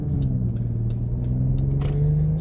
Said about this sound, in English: Under harder acceleration, and we're in eco mode right now, you can definitely hear the engine